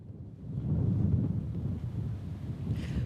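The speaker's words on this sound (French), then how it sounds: "en tout cas, il y a du vent" Wind gusts across the microphone outdoors on Mont Ventoux during the Tour de France, a steady low rumbling buffet with no talking.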